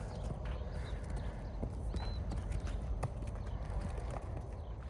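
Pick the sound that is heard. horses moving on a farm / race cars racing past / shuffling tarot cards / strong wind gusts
horses moving on a farm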